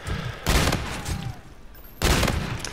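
Bursts of rapid gunfire in Call of Duty: Infinite Warfare, two loud clusters of shots around a quieter stretch with faint background action.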